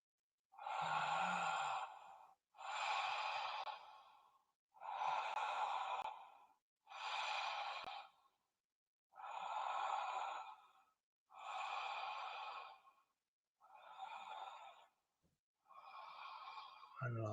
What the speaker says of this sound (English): We are going to take 5 more breaths together and really feel it leaving your body.